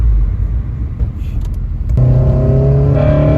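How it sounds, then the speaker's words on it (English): An 8th-generation Honda Civic Si with a Skunk2 header and full race exhaust idles with a deep, steady exhaust rumble, then settles into a smoother, fuller drone partway through. "Dude, this is perfect exhaust."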